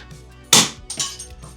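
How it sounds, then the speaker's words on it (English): A hammer strikes a plastic graded Pokemon card slab in one sharp, loud crack with a brief clatter of shards just after, and then a quieter knock. "now there's shards of slab everywhere"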